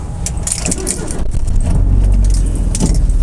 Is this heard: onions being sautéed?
no